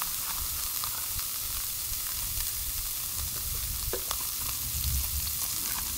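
Sausage frying in oil in a pan outdoors, a steady, even sizzle and crackle throughout with occasional small pops, moderately loud and without talk.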